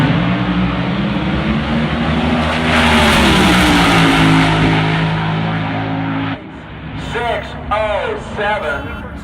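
A funny car roars down the strip at Tucson Dragway, its engine a loud, sustained thundering blast for several seconds before cutting away to a commentator talking over it.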